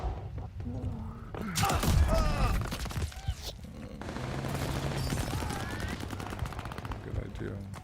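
Gunfire in the Call of Duty Vanguard multiplayer game mode Hardpoint: bursts of automatic fire and single shots with thuds, mixed with game sound effects over a continuous battle din, medium loud.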